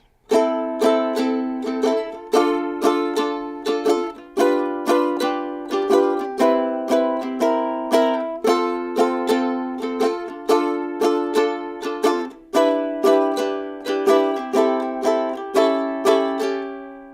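A ukulele strums the chords of a song in a steady, bright rhythm, several strokes per chord with regular changes, played solo and close.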